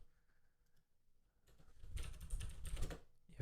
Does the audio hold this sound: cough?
no